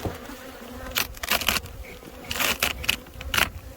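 Honeybees buzz close by at the hive in a steady drone, with several louder passes sweeping near the microphone, on a warm January day.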